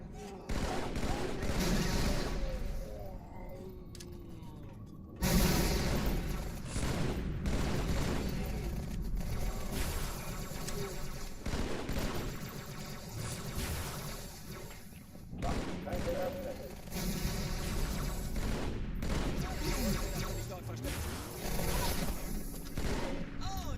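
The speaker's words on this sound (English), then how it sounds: "My ally almost SMG'd me to death there." SMG fire and other weapons in a Halo 2 firefight, with rapid automatic bursts and shots overlapping nearly nonstop, loud and up close, under game dialogue and a player's voice.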